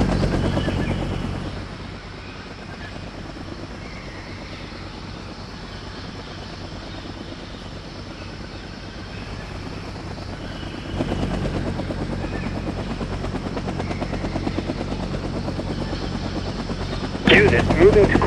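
Military helicopters fly in the Vietnam-era war game Vietnam '65, their steady rotor thrum and engine roar filling the scene close and loud throughout, swelling around the middle and near the end.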